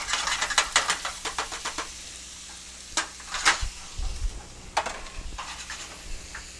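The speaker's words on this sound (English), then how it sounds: "So now I'm throwing the onion in there." Chopped onion hitting a hot pan while cooking orange chicken, giving a burst of close crackling sizzle with sharp spatters, then quieter frying with a few scattered knocks and pops.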